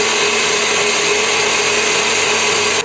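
An electric mixer whips egg whites as sugar is added, giving a loud, steady, high-pitched motor whine that holds constant throughout and cuts off abruptly at the end, with no speech.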